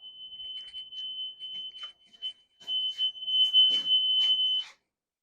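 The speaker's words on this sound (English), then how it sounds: "Silence the alarm." A shrill, steady electronic generator shutdown alarm tone sounds continuously, with scattered clicks over it, then cuts off abruptly near the end.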